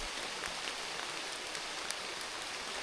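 Steady rain falling, a dense even hiss of drops on surfaces with a few louder splats, close and continuous with no voices.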